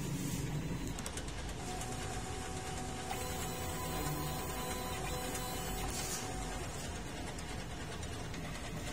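A DTF printer (an Arrow model with a 33-meter print area) runs its print head cleaning cycle, giving a steady, continuous mechanical whir and hum with faint clicks throughout, close and fairly loud with no talking.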